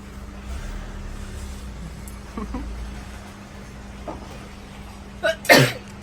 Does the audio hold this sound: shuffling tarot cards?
no